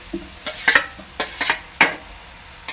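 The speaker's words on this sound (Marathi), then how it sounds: "आता मी ह्याच्यामध्ये टोमॅटो टाकत आहे" Tomatoes going into frying onions for a chicken masala, with a spoon knocking and scraping the pan in several quick strokes over a soft sizzle, close and loud.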